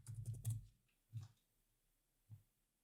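Three separate bursts of typing on a computer keyboard, a quick cluster of key clicks and then two short isolated taps, close and fairly quiet with silence between.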